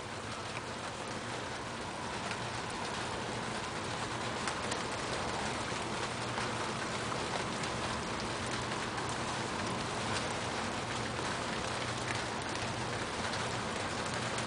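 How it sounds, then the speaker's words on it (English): Steady rain falls during a thunderstorm, a constant soft hiss of drops on surfaces with a few faint taps mixed in. No one speaks. "Yeah, it's still raining."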